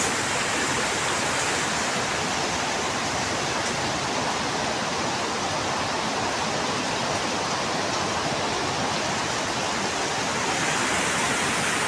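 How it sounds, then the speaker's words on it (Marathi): Rainwater pours steadily and fast into a tub, a dense continuous rushing splash that stays loud and unbroken throughout. "पल्लीखाली मी टप लावलाय. तर टपसुद्धा बघा भरला. एवढा फास्ट पाणी येतं."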